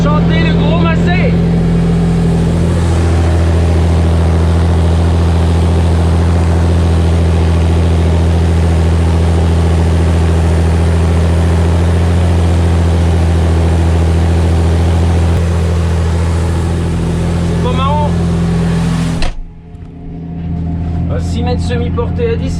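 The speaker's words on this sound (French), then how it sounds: "On entend chanter le gros massé." A big Massey Ferguson tractor working a field with a 6-metre semi-mounted implement: a loud, steady, close engine drone holds for about nineteen seconds, then drops away abruptly into quieter background.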